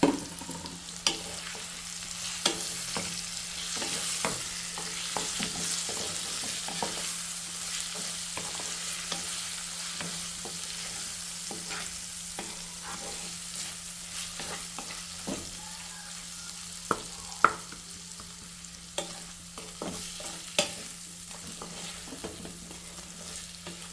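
Lightly smashed boiled potatoes frying in a pan give a soft, steady sizzle, with occasional scraping stirs and sharp spoon taps against the metal.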